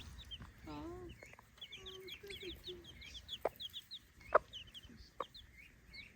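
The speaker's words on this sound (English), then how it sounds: "These are guinea fowl." Guinea fowl and chickens clucking nearby outdoors, a busy overlapping mix of short chirps, clucks and sharp calls, with a few louder squawks standing out.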